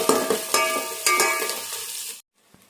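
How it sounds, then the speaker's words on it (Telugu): Onions with ginger garlic paste sizzle in a hot pan for soya chunk biryani, with steady frying and stirring scrapes close by, then the sound cuts off sharply, leaving near silence and one faint knock. "ఆనియన్స్ కొద్దిగా ఫ్రై అయ్యాక ఇందులో మనం అల్లం వెల్లుల్లి పేస్ట్ వేసుకుందాం"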